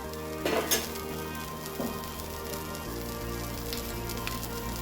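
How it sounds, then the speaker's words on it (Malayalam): Curry bubbling and reducing in a pan, a steady soft sizzle and simmer with a few louder pops and clinks near the start, close and continuous. "ഇതൊന്ന് തിളച്ച് വറ്റിക്കോട്ടെ"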